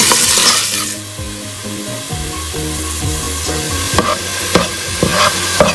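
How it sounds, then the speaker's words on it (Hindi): Onions fry in about a cup of oil in a pot for chicken korma pulao, a steady loud sizzle with a spoon scraping and stirring through it in uneven strokes. "उसके साथ ही हमने ऑनियंस डाल देना और इनको हमने गोल्डन ब्राउन करना है"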